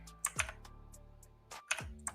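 A computer keyboard clicks as a search for an LLM leaderboard is typed, a few distinct close keystrokes spaced irregularly over a quiet background.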